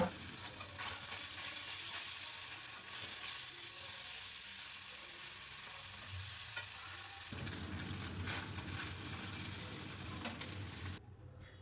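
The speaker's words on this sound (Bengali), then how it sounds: "বাকি মাছগুলোকেও আমি এই একইভাবে ভেজে নিলাম। গ্যাসের ফ্লেমটাকে অবশ্যই আমি হাইতে রাখবো।" Bele fish fry in oil over a high gas flame, giving a steady, dense sizzle with stirring and scraping noises, loud and continuous before it cuts off near the end.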